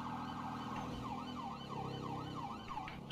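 A police siren in the video game GTA V wails, sweeping up and down repeatedly over a dense motorcycle engine drone, loud and close, with no talking.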